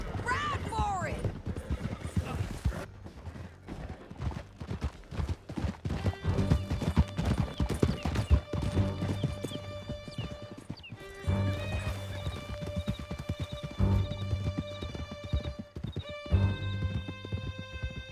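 Horses gallop through a canyon during a chase in Red Dead Redemption 2, their hooves clip-clopping in rapid, continuous rhythm with whinnies, under music and shouting voices.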